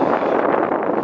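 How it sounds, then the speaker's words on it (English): Strong wind on open big water during a canoe fishing trip, buffeting the microphone in a loud, continuous rushing roar that swells and dips slightly. "It's still pretty windy and it's going to keep getting worse,"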